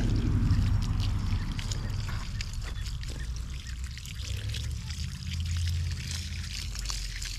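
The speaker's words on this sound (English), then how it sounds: "I am going to water the peppers" Water pours and trickles steadily onto garden pepper plants, soil and leaves, a continuous splashing flow at close range with no talking.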